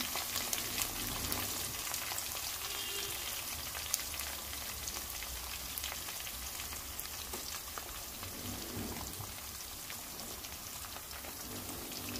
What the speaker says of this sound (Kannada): ಈರುಳ್ಳಿ ಹಾಕ್ಕೊಂಡು ಹಾಗೆ ಕರಿಬೇವು ಸೊಪ್ಪನ್ನು ಹಾಕ್ಕೊಳ್ತೀನಿ.